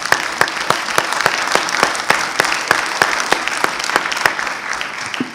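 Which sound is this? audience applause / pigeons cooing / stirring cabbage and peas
audience applause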